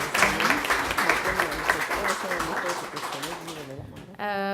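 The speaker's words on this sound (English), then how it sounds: "Could you give a big round of applause?" Dense audience applause at a press conference in Los Angeles, a thick wash of many hands clapping at close range that fades out at the end, with some talk mixed in.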